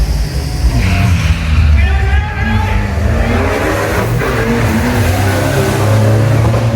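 Ford Ranger and Mazda pickup trucks at a drag race, with engines droning loudly and revving in rising sweeps and someone talking continuously over the din.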